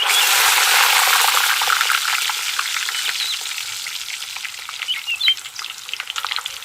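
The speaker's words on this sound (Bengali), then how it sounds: "রসুন ভাজা হয়ে গেছে, এখন শাক দিয়ে দেবো।" Garlic frying in oil in a wok as leafy greens go in, a loud steady sizzle that softens slightly and turns into bubbling crackles with scattered pops, close by with no talking.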